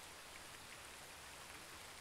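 Rain falling on a tent, a steady close hiss of many drops pattering on fabric, soft and continuous with no voices.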